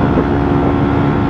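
A motorcycle fitted with a new exhaust accelerates in strong wind, a loud, steady engine drone blended with heavy wind rush across the whole short stretch, no voices.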